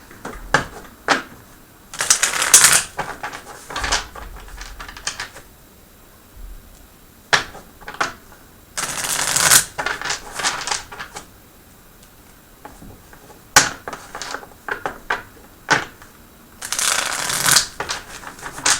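Tarot cards being shuffled, with repeated riffling bursts and softer handling clicks between them, close and crisp, with no voices.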